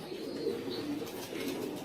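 Racing pigeons coo softly in a loft in a steady low murmur, several birds overlapping, with faint rustling of wings in the background.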